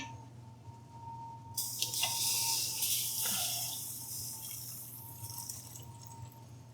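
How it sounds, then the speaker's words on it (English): Boiling water pours steadily with a hissing, splashing rush that starts abruptly and continues, close by, over a low steady hum. "bringing over some boiling water to pour in here"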